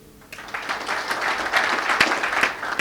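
A panel audience claps to vote in a poll on employee engagement, applause swelling in after a quiet start and holding steady with a few sharper claps standing out.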